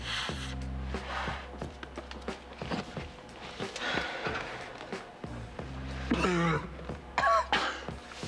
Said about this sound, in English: That's a nice cough.